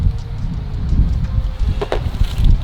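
Wind blowing outdoors at Cromwell Lakes fishing lake, heavy low rumbling gusts buffeting the microphone close up, with faint rustling throughout and no voices.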